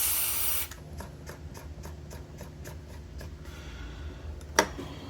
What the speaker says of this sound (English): I'm just gonna spray down on my little pad right here because I don't want to spray the whole board